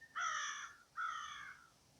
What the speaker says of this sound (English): You hear that caw? Definitely crows.